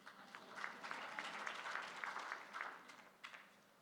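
Audience at an award ceremony keynote speech gives a faint, distant round of clapping that swells and ebbs unevenly across a few seconds before tapering off.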